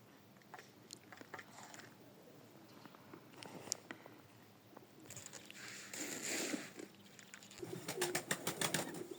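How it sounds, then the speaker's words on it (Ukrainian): Pigeons cooing and pecking outdoors in deep snow, soft intermittent coos with faint crunching and fluttering, fairly quiet and close, with no talk. "Тут голубчики гуляють."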